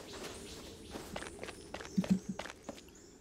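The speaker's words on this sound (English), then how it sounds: "I definitely hear someone else's footsteps." Footsteps in the video game Rust, a run of distinct steps in an uneven rhythm, a few landing louder and nearer in the middle before trailing off, with no voices.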